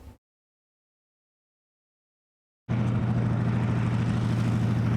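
A 2021 Toyota Supra arrives for a pre-run on a location shoot: a brief sound at the start, then silence, then a loud, steady engine drone cuts in and holds close to the end.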